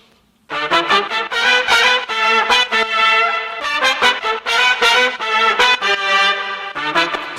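Bright trumpet chords with parallel distortion played in short punchy stabs with a gritty, sizzling edge, loud and close, with brief gaps between phrases.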